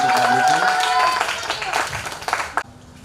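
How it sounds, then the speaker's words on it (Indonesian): Applause for Pak Brutu at a church music performance by college students: a brief patter of clapping in a hall follows a speaker's voice and fades out quickly. "Tepuk tangan untuk Pak Brutu"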